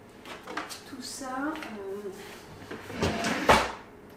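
Desk drawers cluttered with odds and ends being pulled open, giving a couple of sliding wooden rumbles and a sharp knock near the end, close by, under someone talking.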